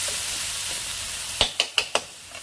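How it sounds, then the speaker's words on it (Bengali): Ginger paste with garlic and green chilli frying in a pan, a steady loud sizzle throughout, then four quick scraping stirs of a spoon near the end, close and without talk. "দিয়ে দেবো হচ্ছে আদা বাটা, একটু ভেজে নিই"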